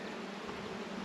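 Honey bees from a backyard hive, a steady, close, droning hum with no other sounds on top.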